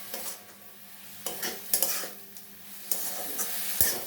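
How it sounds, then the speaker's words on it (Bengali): Shrimp and red amaranth leaves stirred in a pan, with a soft sizzle of frying and a few scraping utensil strokes against the pan, close and moderately loud, no voices. "চলো এটা ঢাকনা খুলে নাড়িয়ে দেবো।"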